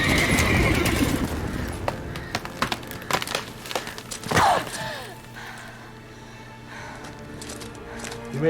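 A horse in the video game The Witcher 3 whinnies loudly, accompanied by hoof clip-clops and creaking tack, with a long descending neigh in the middle and quieter shuffling afterward.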